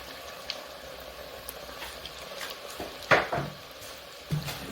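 Ugandan donuts frying in hot oil in a pan: a steady, close sizzling hiss runs throughout, with a few brief clatters near the end.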